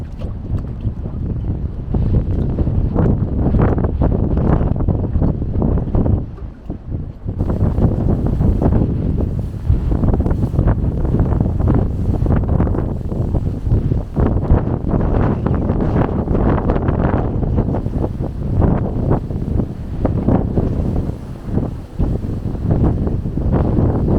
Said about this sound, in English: The wind is really getting up now.